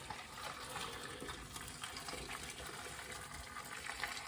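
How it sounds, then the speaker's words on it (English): Boiling water pours from a kettle into a large stew pot, a steady, soft gushing splash that runs continuously and evenly at a fairly low level, with no talking. "Get your boiling water straight in."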